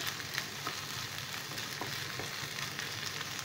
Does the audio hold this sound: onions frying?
yes